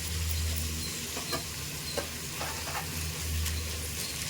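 Mint and masala fry in a pan for a fenugreek-leaf mutton biryani, giving a steady close sizzle broken by a few light stirring scrapes, with no talking.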